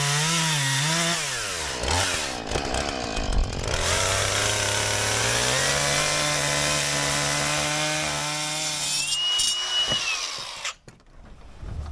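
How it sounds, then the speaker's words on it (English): A chainsaw cuts storm debris after Hurricane Helene. The engine revs up and down loudly and close for about eleven seconds, with pitch shifting as the blade bites, then cuts out near the end. "What's to clean up without a little chainsaw?"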